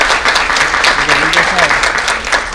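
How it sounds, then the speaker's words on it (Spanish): Audience applause welcoming guest speakers at a Spanish-language panel event on discrimination and xenophobia, a steady wash of clapping filling the room with a faint voice underneath. "les pido que por favor los recibamos con un fuerte aplauso"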